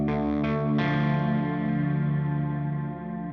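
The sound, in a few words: electric guitar through amp clean channel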